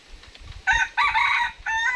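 A labuyo jungle fowl rooster crows close by in three loud, strident bursts over quiet low rustling, with no talk.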